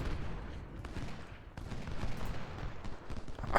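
Cannon and musket fire in Ultimate General: Civil War, a dense ongoing battle din of scattered gunshots and volleys with occasional sharper cracks, at moderate volume.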